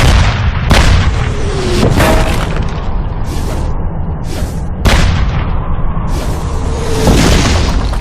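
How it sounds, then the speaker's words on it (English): Heavy WW2 anti-tank artillery gunfire during a tank battle against Tiger tanks: repeated loud booming blasts with sharp cracks, several shots spaced across the stretch over a dense rumbling battlefield background, close and powerful. "Under heavy fire, Whitman quickly retreated."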